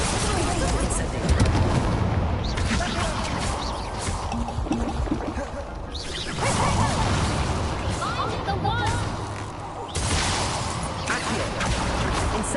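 Spell effects from Hogwarts Legacy, Accio and Incendio, burst out as repeated booming, crackling blasts in several loud surges, with a voice calling the spell names over them.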